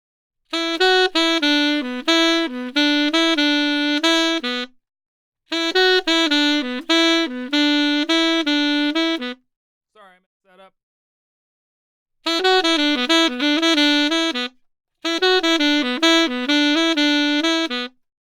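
A saxophone plays four separate melodic phrases of detached and slurred notes, with short silences between them and a faint brief sound in one gap.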